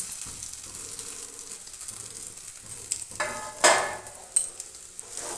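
Grated potato frying in a pan with a cumin-spiced mixture, a soft continuous sizzle with occasional stirring scrapes and a few louder clatters near the end, no talking.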